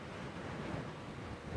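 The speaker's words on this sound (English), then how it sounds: "It's got very windy all of a sudden." Sudden strong wind buffets the microphone on an open safari vehicle at sunrise in Sabi Sand, a dense continuous roaring rush with low gusty rumble, loud and close, with no talking.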